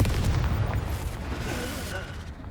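A Confringo spell explodes in the Hogwarts Legacy video game, a booming blast with dense low rumble that rolls on under other game sounds.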